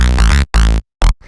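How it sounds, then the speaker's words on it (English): An unfiltered FM-synthesized saw wave, modulated by two sine waves, blasts in three short, loud, bright buzzing stabs with gaps between, the last one quick, followed by a faint tail. "So here's what it sounds like without being low pass"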